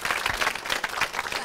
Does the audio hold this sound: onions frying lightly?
no